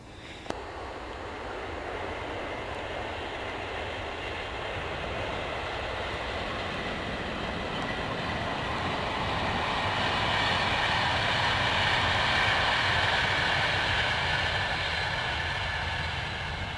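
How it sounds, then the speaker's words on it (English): A Virgin passenger train bound for London passes through open farm country near Hartwell and Hanslope, a long rushing roar that swells steadily louder over about sixteen seconds, with no voices over it. "That's a Virgin train heading for London."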